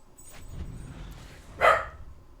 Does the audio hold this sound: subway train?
no